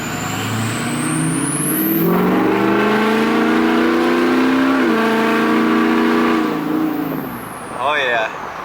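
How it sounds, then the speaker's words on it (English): A truck revs hard at full throttle with a loud exhaust note and turbo character, engine pitch climbing steadily and holding before easing off, with a brief voice at the end. "Lower RPMs, it just kind of sounds like turbo, but when you hit it, it sounds like exhaust."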